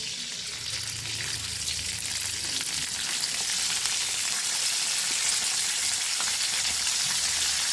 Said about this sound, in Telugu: ఇవి వేసుకొని ఈ రెండు నూనెలో మంచిగా ఫ్రై చేసుకోవాలి